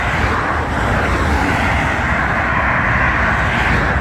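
Cars stream steadily along a road beside a bike path in the Provence countryside between Rousset and Saint-Maximin, a continuous close traffic roar with no pauses.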